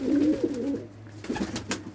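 Pigeons coo softly nearby, a few low throaty rolling calls with short pauses between them.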